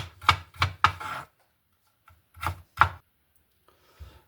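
A knife chopping vegetables, leek, cucumber and pepper, on a board for a rice and chicken salad, in two quick bursts of three and two sharp, close thuds separated by a short pause, with a faint final tap.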